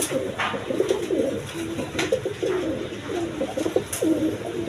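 A male Giasuli pigeon coos in repeated low, throaty phrases at close range, with brief higher chirps from other birds scattered over a steady background.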